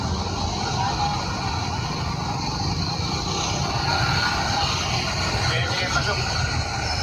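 Steady road traffic wash near a park with pedestrians crossing, a continuous broadband rumble of passing vehicles with people talking over it throughout.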